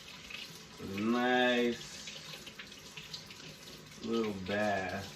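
Warm water runs from a kitchen tap over a potato being washed, in two separate gushing bursts with quieter handling between them, and a voice speaks briefly.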